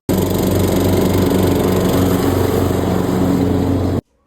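A gasoline grass cutter engine runs steadily and loudly up close with a constant droning hum, then cuts off abruptly near the end, with no talking.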